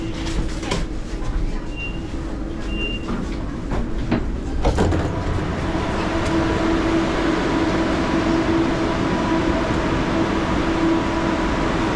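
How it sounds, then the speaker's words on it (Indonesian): A KLIA Transit train at KL Sentral station rumbles steadily, with clicks and knocks early on and a faint tone later, while station noise and occasional voices sit underneath. "sekarang kita lagi di stasiun KL Sentral"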